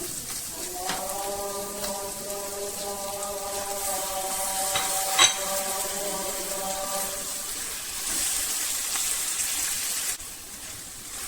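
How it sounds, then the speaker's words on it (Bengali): Meat frying with spices in a pan while being stirred, a steady close sizzle with a sustained tonal hum over the first part. "মাংস ভালো করে কষিয়ে নেব"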